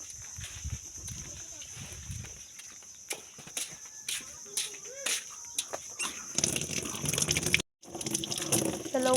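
Fruit is washed under a running kitchen tap: a steady hiss of flowing water and splashing builds in the second half, with voices talking and scattered clatter before it.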